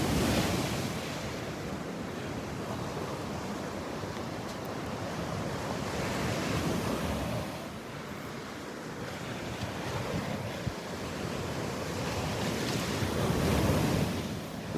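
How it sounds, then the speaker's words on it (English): Ocean surf breaks and washes up on the beach at Delnor-Wiggins on a Saturday morning, loud rolling swells rising and falling over about fifteen seconds, with wind buffeting the microphone throughout. "Listen to those waves."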